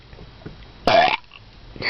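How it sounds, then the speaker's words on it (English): A girl lets out one big, loud burp after drinking Coke. It comes suddenly out of near quiet and lasts about a quarter second. "Burp."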